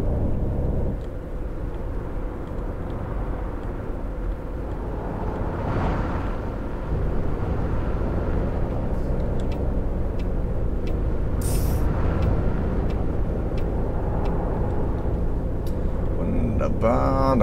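A coach bus rumbling along a snowy motorway toward Hamburg in Fernbus Simulator, with a steady low engine and road drone and a hiss of air brakes, while someone talks over it throughout.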